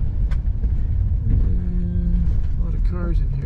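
Car driving slowly past and into a busy restaurant parking lot, a steady close engine rumble with road noise throughout and a person talking over it.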